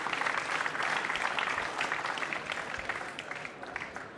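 An audience applauds at the 2006 World Pool Championship match between Efren Reyes and Tony Crosby, with dense, lively clapping that starts strong and slowly thins toward the end.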